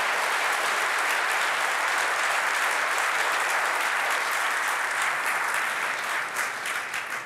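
Audience at a German TV talk show applauding, sustained dense clapping from a crowd at steady loudness, fading slightly at the end, with no talk.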